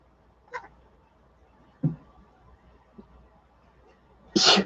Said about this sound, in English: Oh my gosh, I'm gonna sneeze